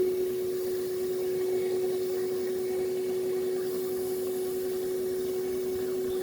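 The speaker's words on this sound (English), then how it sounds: "So after vacuuming all of this out, I did a quick inspection with a flashlight" A vacuum with a small hose sucking debris out of the intake holes of a 2007 Hyundai Sonata 3.3L engine during an upper intake manifold gasket replacement, a steady loud drone with a constant whining tone.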